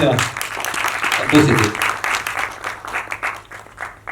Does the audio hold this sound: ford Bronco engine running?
no